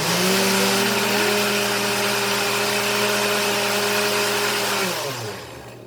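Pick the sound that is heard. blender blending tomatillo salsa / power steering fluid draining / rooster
blender blending tomatillo salsa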